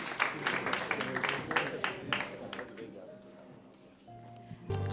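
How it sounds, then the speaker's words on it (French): Studio audience on the French singing show Chante ta vie applauding the candidates, a burst of broadband clapping loudest at the start and thinning out, with a voice and music entering near the end. "On va les applaudir,"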